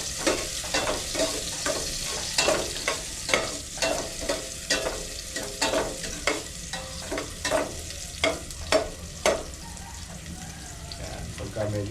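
Chicken pieces frying with onions in a pot for tinola hiss and sizzle steadily, with repeated sharp scraping clicks from stirring at close range.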